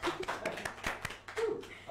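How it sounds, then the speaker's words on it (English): Scattered, sparse hand claps from a small audience at a live music interview after a singer's song, uneven taps spread over the span with faint background voices. "Come on guys, you can clap."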